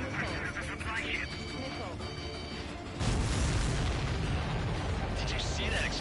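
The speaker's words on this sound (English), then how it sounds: "Did you see that explosion? Looks like that's one of them down." A supply ship shot down in Ace Combat 7 bursts in a loud, rumbling explosion that swells at the midpoint and keeps roaring, layered over ongoing game sound effects and music.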